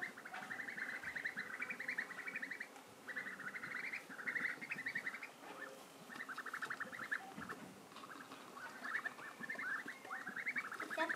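Young ducks cheep and peep in repeated high chirping bursts, a small flock chattering continuously at moderate distance, faint overall.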